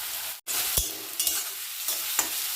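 Onions and garlic paste fry in a pan for a quick mutton curry, a close, steady sizzle with a few sharp spatula scrapes and clinks over about two seconds, no talking.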